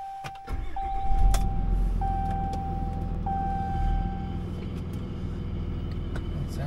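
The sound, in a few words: Dodge Ram 3500 truck engine running after transmission rebuild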